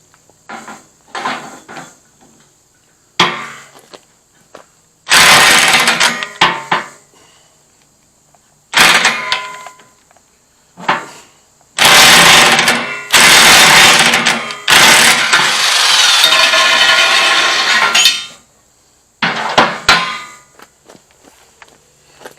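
A rusty pipe wrench works a nut loose on a tractor implement, with close metallic clanks, scrapes and ratcheting bursts coming in irregular loud spells between quieter handling noises.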